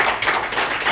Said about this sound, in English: A big clap for that.